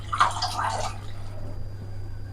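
A brief splash and gurgle of water poured into a pressure cooker of pumpkin, carrot and tomato for about a second, then a quiet steady hum.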